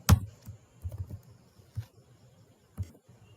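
Soft, irregular clicks of a computer keyboard as code is typed, a handful of separate keystrokes spaced unevenly, close and quiet with no talking.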